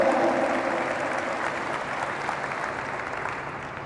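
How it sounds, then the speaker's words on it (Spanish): Church congregation applauding steadily and loudly as a dense, continuous wash of many hands that tapers only slightly toward the end, with no voices over it. "Fuertes aplausos al Rey de Reyes"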